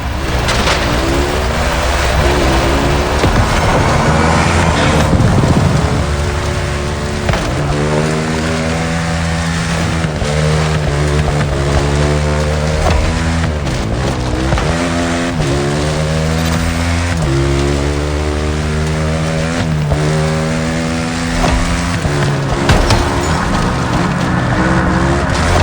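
A Kawasaki KX450 dirt bike engine in the video game The Crew Motorfest, loud and close, revving up and down continuously with rising and falling whines as the rider accelerates and eases off.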